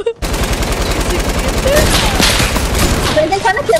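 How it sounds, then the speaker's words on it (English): Rapid automatic gunfire in a video game, loud and continuous for several seconds, with a voice talking under the shooting. "Dude, stop shooting at me"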